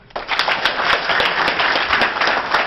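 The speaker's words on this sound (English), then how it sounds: "Clap your hands if you really are a Democrat." An audience clapping hands at a memorial breakfast, dense rapid claps starting abruptly and holding steady, close and lively with no voices over it.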